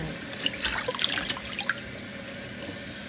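Tap water runs steadily over golden oyster mushrooms being rinsed, a soft close splashing with light patters, faint and continuous with no talking.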